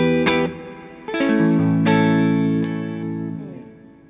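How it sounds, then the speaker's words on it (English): A clean Fender Stratocaster played through an Orange amplifier with a Boss RV6 reverb pedal, several ringing chords and notes struck one after another, each sustaining with a soft reverb tail, loud and alone. "I also have a Boss RV6 in the loop just to add a bit of reverb."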